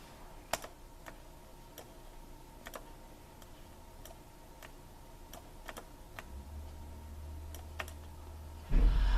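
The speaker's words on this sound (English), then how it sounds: "So I'll type that out." Equation typed on a computer keyboard, with sparse, separate keystroke clicks spaced irregularly through a quiet room, then a brief louder rumble at the end.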